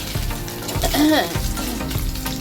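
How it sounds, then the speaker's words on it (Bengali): Mourala fish frying in oil, a continuous close sizzle with faint clinks and a brief tonal squeak midway, moderately loud and without speech. "একদম সুন্দর করে মৌরালা মাছের ফ্রাই করছি মানে ভাজা করছি একটু"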